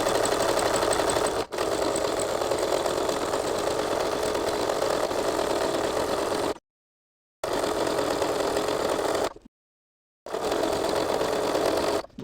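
An embroidery sewing machine stitches a calligraphy signature at a 30-degree angle, running loud and steady in long bursts separated by two short silent pauses.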